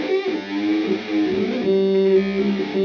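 Source Audio C4 Synth guitar pedal set to square waves with no envelope, producing a buzzy, glitchy synth tone with abruptly shifting pitches over several notes, close and steady in level, alone without talk.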